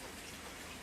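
Steady rain falling outdoors, a continuous broadband patter and hiss of drops with no break, even and fairly faint throughout.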